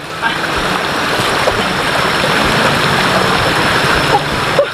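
Floodwater rushes steadily over a damaged road, a loud, broad, continuous roar of flowing water, close by, with faint voices now and then beneath it.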